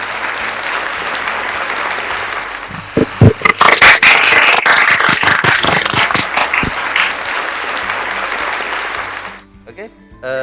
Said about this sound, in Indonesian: Kita beli aplaus ya,